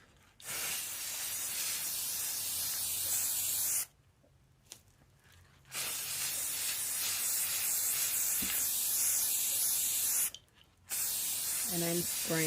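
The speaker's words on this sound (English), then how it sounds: "And I'm spraying the top of the resin part too." Loud, continuous hissing spray from an aerosol can applying finish onto a resin river-table cutting board in long bursts, broken by two short pauses of near quiet.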